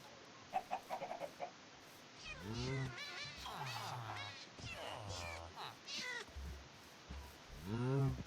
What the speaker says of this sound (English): That was the sound of a cat dying.